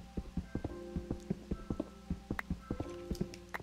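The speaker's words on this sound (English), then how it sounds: "Oh, I hear a skeleton." Sharp clattering and rattling taps repeat in an uneven rhythm, with faint tonal blips between them, like bony skeleton mob sounds in Minecraft heard nearby in a cave.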